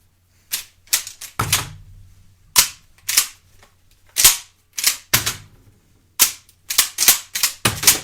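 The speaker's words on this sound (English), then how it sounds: "as quick as I can pull that trigger, it'll drop those other two shells in there" H&R Excell Auto 12 gauge semi-automatic shotgun firing a series of loud, sharp shots in quick irregular bursts, each crack sharp and close with brief gaps between rounds.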